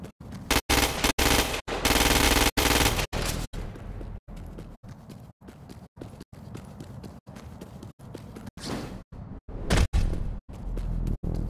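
A standard issue agency assault rifle in Crackdown 2 fires at a freak, producing loud, rapid bursts of gunfire separated by short pauses, with clusters of single shots between longer volleys.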